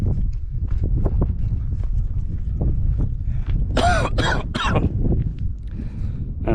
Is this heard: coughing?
yes